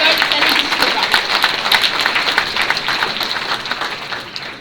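A large crowd at a political public meeting on pensions in Villeurbanne applauds volunteers loudly, a dense, sustained roar of clapping with scattered cheers that tapers slightly toward the end.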